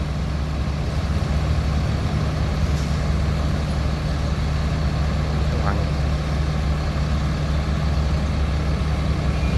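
A Putra Pelangi bus rumbles by on the road, its heavy diesel engine giving a steady, loud low drone that holds throughout, with a brief hiss partway through.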